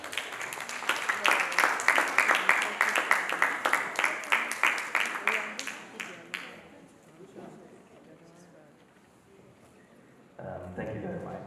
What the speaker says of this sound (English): with a round of applause, join me welcome Alex